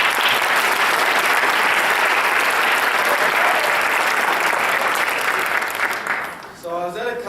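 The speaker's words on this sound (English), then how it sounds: "Round of applause" An audience at a school jazz concert breaks into loud, dense applause that holds steady for several seconds, then thins out as a voice begins speaking near the end.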